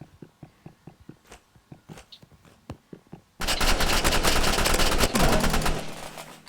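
A pump shotgun fires in a video game: a run of sharp, evenly spaced reports, then a sudden dense, loud barrage of gunfire that fills the rest.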